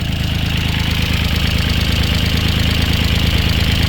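A used Kubota L3608 tractor's diesel engine idles close by, a steady, even rumble with a constant low throb and no change in speed.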